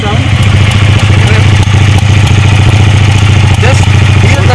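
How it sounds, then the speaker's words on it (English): Close, loud idle from the V-twin exhaust of a Hyosung Aquila ST7 cruiser, a steady low pulsing rumble held evenly throughout with no talking. "Just hear the V-twin from Hyosung."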